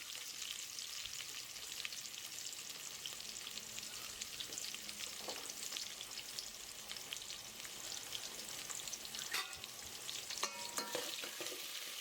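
Cumin, mustard seeds, green chillies and onions sizzle and crackle in hot oil for Telangana sambar, a steady dense frying hiss with occasional stirring scrapes and spatters, close and continuous with no talk.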